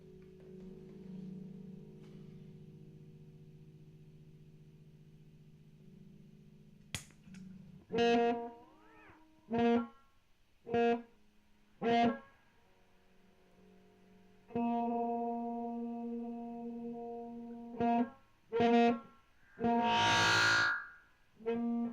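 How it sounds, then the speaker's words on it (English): A Rowin Ana Echo analog delay guitar pedal turns short plucked guitar notes into repeating echoes that trail off, with a low hum before the notes start and a burst of swirling, pitch-warped feedback near the end. "Now we have here the Ana Echo. Ana must be analog."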